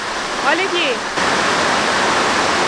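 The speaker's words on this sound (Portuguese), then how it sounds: "É tanta chuva que tá até aguando as minhas plantas." Heavy rain pouring onto a balcony, a loud steady wash of broadband hiss throughout, with someone talking briefly near the start over it.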